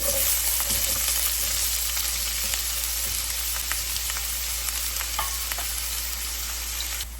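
Onions tossed into hot leftover oil from frying fish, sizzling loudly and steadily throughout with light stirring scrapes, close up and without speech.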